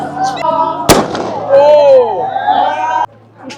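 A single sharp, loud gunshot fired at the Nagaland Hornbill Festival cracks out once near the start, with people talking and festival noise continuing around it.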